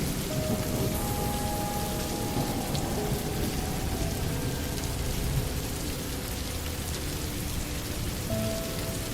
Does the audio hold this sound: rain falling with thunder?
yes